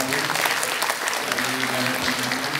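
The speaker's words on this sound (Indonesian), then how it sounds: "Oh, kita tepuk tangan dulu nih, ada Pak Priyo Budi Santoso dari" Audience applause at a dialogue event with a thousand doctors in East Java, steady dense clapping from a large seated crowd at even loudness throughout.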